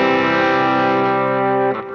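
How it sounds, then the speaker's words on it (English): Electric guitar through an inexpensive Klon clone overdrive pedal on an amp's clean channel, a single sustained chord with a mildly driven, warm tone, ringing alone for about two seconds before being choked off. "So this is the Klon sound that I've got back on the clean channel."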